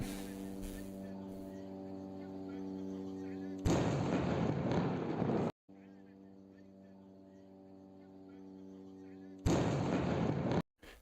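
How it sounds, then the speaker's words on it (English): Nighttime military strikes in the Gaza Strip: two loud bursts of explosive blast noise, each lasting about two seconds and separated by a stretch of droning hum. "Here's some nighttime strike videos fresh out of the Gaza Strip."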